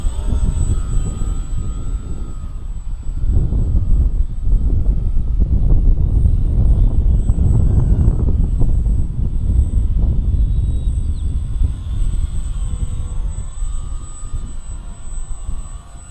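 A Shark Bait model airplane drones steadily overhead outdoors, a continuous motor whine with wind rumble that stays fairly loud and even throughout.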